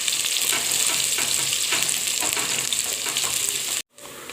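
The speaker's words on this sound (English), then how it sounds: "put our onions inside and let them begin cooking. We are going to let our onions turn brown." Onions frying in a pan for a chicken fry, a loud, continuous close sizzle and crackle with light stirring scrapes, cutting off abruptly near the end before resuming.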